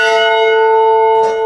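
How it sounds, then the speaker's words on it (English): A single bell struck by hand rings out loud and clear, holding a sustained metallic tone that barely fades over its short length. "After the boys all gave the bell a ring, we headed out."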